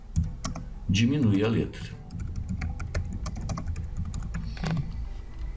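Computer keyboard shortcut presses during a Photoshop text-layer lesson, a scatter of quick light clicks under a man's brief spoken remark.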